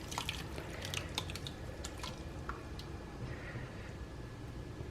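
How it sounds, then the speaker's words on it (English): Homemade chipotle sauce is poured over chicken breasts in a crock pot, giving soft, quiet drips and wet splashes clustered early, then fading to a faint trickle. "we're gonna take our liquid and we're just gonna pour it over our chicken"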